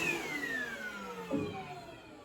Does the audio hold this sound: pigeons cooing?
no